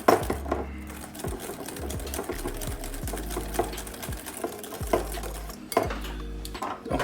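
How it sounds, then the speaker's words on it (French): Whisk or spoon clattering rhythmically against a bowl while mixing tiramisu cream of yolks and sugar until pale, close and steady with repeated scraping knocks over a low hum in the background. "On va continuer à mélanger."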